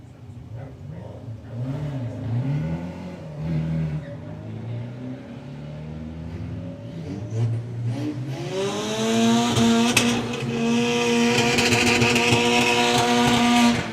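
Drag racing cars, a Sonic Audi and a Beetle called Strip Poker, rev and idle in throbbing, rising bursts, then launch into a loud, rising roar of acceleration, close and continuous, with no talking.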